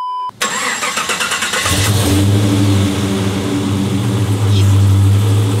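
A 600-horsepower big-block American muscle car cranks over and fires, then settles into a loud, deep, rumbling idle close by.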